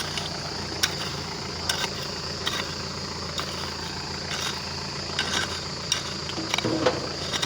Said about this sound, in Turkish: cırcır bözdekleri de kulaklarımızı kurutuyor bu arada